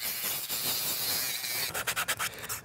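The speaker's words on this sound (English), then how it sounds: "I got most of the offending material removed with that flappy spinny disc" A spinning flap disc grinds support material off a 3D printed plastic sword in a steady, close abrasive rasp that breaks into short choppy passes near the end.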